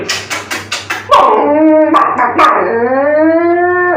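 A dog howls loudly and close, first a few short yips in quick succession, then a long drawn-out wavering howl that rises and falls.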